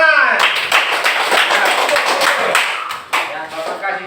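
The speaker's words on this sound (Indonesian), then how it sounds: "Ya, tepuk tangan." A classroom of students claps together for several seconds, a dense, steady patter of hands in a reverberant room.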